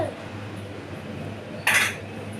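A single metallic clank as a lid is set onto a pot of vegetable pulao, brief and close against quiet kitchen hum.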